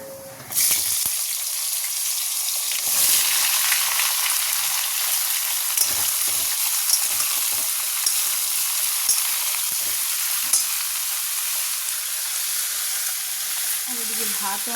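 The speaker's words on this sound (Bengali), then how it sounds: "এবার সবজিগুলো ভেজে নেবো" Vegetables frying in hot oil seasoned with panch phoron and dried red chili, a steady, loud broadband sizzle that runs nearly the whole time, with occasional soft clinks and stirring scrapes beneath it.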